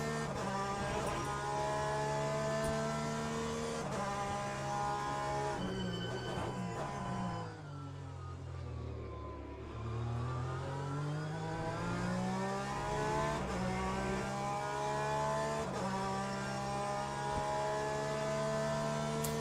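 Race car engines in the Le Mans Ultimate sim racing game, including a P2 Porsche, drone loudly and continuously, pitch falling into a deep dip then climbing again as the car slows and accelerates.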